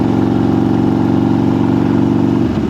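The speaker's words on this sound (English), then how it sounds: "Oh, gravel truck." A heavy gravel truck engine rumbles steadily and loudly close by, then begins to shift and fade near the end as the truck rolls past.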